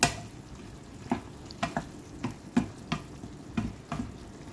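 A spoon stirs pinakbet vegetables with eggplant in a cooking pot, giving about ten sharp scraping knocks in an uneven rhythm over a soft, steady sizzle, close by with no voices.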